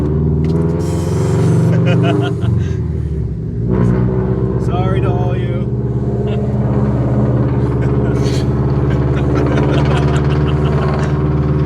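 A car fitted with a loud Tomei Expreme Ti exhaust drives uphill, its deep, steady engine drone and rumble running under people talking inside the car.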